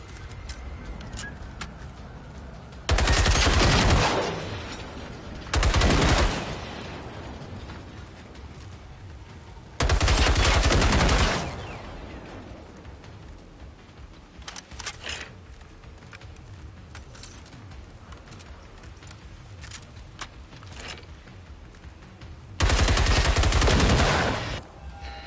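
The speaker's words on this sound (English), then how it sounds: "And I have to get them with the machine gun." Machine gun fire in Generation Zero comes in four loud, dense bursts of about one to three seconds each, set against a quiet outdoor background with faint ambient sounds between them.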